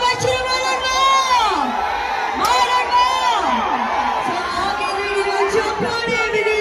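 A large crowd at a stage show cheers with rising whoops, shouts and whistles, a continuous excited roar that swells and dips.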